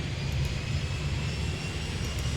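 A steady, loud roar of an airliner engine as the plane takes off in the airport control game Airport Madness 3D, an even broadband rumble without talk.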